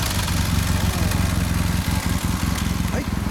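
A 2009 BMW R1200GS Adventure motorcycle with an Akrapovic exhaust idles close by with a steady, throbbing low rumble that holds even throughout.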